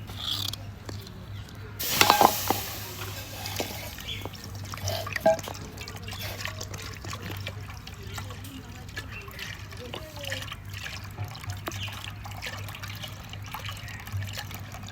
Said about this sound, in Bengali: আর দুধটা হচ্ছে আমি ঢেলে দিব ফ্রাই প্যানে।